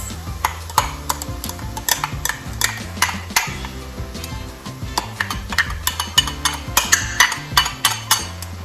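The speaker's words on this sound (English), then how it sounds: "All right, I'm gonna mix it now." A spoon stirring dolma filling with red wine vinegar and tomato sauce in a bowl, close repeated scraping and clinking of metal against the dish in an irregular mixing rhythm, no voices.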